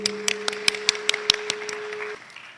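At a Gujranwala district schools naat competition, an audience gives scattered applause for the first judge, light and sparse claps repeating unevenly under a steady electronic hum before fading.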